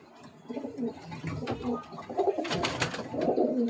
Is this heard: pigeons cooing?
yes